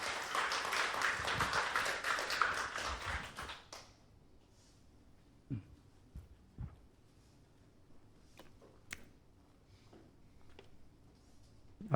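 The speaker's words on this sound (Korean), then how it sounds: "박수 한번 쳐주세요." A church congregation claps during an ordination service: a dense burst of applause lasting about three and a half seconds, then it stops abruptly, leaving a quiet room with a few scattered knocks and shuffles.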